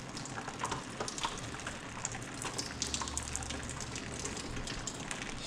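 A continuous close rush of water pouring out, nearly pure water with little oil, steady and splashy with faint spattering on top throughout, no voices.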